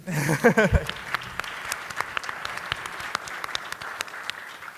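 An audience applauds at a summit's closing keynote student panel; a voice briefly speaks first, then scattered clapping carries on, fairly close and steady.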